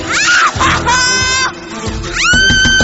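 A loud, high-pitched scream rises and falls in bursts, with a second wavering shriek cutting in near the end over a noisy background.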